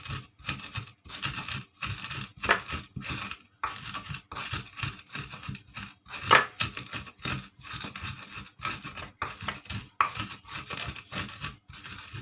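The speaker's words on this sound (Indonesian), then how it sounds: "Kita nguleknya pakai ini biar enggak goyang-goyang ya." Sambal chillies ground by hand with a stone ulek in a stone mortar, a steady run of close, gritty crushing and scraping strokes in quick rhythm, continuous without talk.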